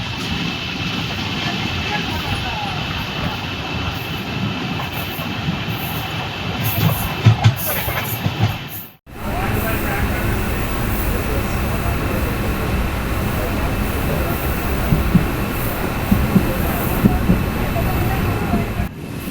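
An Amrit Bharat Express train runs on rails between Thiruvananthapuram and Chennai, with a steady rolling rumble and rhythmic wheel clatter heard close by. The sound drops briefly midway, then resumes at full strength.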